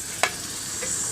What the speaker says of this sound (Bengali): এখন মশলাগুলো ভালো করে একটু ভেজে নিচ্ছি পেঁয়াজের সাথে